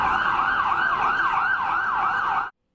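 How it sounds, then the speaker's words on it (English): A loud emergency-vehicle siren wails in a rapid, regular up-and-down sweep, close and dominant, then cuts off abruptly near the end. "sirens blaring"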